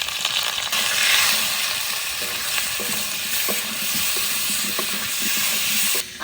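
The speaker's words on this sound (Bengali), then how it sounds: "আদা আর হলুদ দিয়ে সুন্দর করে আলুগুলো ভেজে নিয়েছি" Potatoes frying in a pan with ginger paste and turmeric, a loud continuous sizzle and hiss with intermittent stirring clicks of a utensil, no talking.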